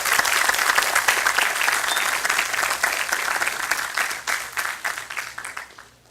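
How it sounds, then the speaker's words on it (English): Sustained audience applause at a secondary schools football league prize-giving ceremony for a winning school, dense and loud at first, then thinning into scattered claps toward the end. "Give them a round of applause."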